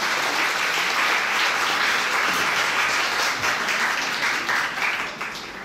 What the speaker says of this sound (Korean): 좋은 말씀 해주신 주례 선생님께 다시 한번 뜨거운 박수 부탁드리겠습니다.